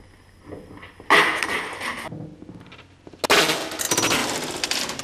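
An airsoft impact grenade trap goes off after its pin is pulled, a sharp loud burst followed by a rattling clatter, then a second even louder sustained burst of crackling noise a moment later.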